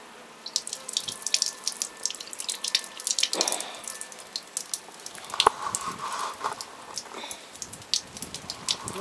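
Water runs and splashes from an old tap into a basin in Corinth, Greece, with a constant patter of drips and spatters up close.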